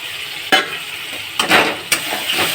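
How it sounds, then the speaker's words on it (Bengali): Ground spice paste fried with softened tomato in a pan, a steady close sizzle punctuated by a few sharp scraping strokes of a spoon against the metal, no one speaking. "দিয়ে আমি এবার ভালো করে কষিয়ে নেব"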